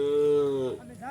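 A grazing cow gives one close, drawn-out moo that falls in pitch, by a riverbank in the afternoon. The call is loud and lasts under a second before it trails off.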